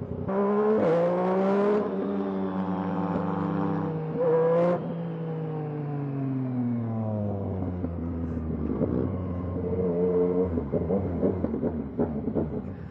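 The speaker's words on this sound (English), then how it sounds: "This bike's so loud, man." A loud motorbike engine on a London street revs up and down in long surging pitches, then settles into a rough, rapid idle, close by with no talking.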